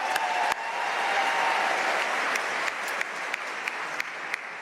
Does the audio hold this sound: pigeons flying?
no